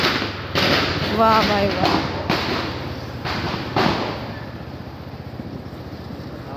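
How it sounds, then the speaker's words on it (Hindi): Several sharp firecracker bangs burst out over a busy outdoor scene during Diwali celebrations in a residential society, with people talking and cheering underneath. "पटाखों की आवाज़ आ रही है"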